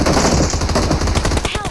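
Rapid automatic gunfire in a battle royale shooter game, loud and close, bursts of shots running almost continuously through the short stretch with some game ambience behind.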